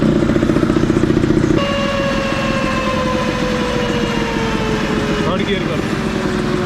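A Honda Activa 6G scooter engine on a dyno run, loud and steady, with a rapid pulsing idle giving way to a climbing, sustained whine as revs build. Speech is present.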